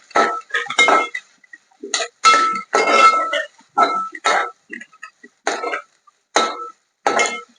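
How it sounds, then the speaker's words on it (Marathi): A spatula stirs chopped onion and curry leaves in a cooking pan for a chavali and brinjal vegetable dish, giving a string of distinct scraping and clinking strokes separated by short pauses, close and fairly loud, with no talking. "कांदा टाकून घेऊ कांद्याला डोलून घेऊ आपण"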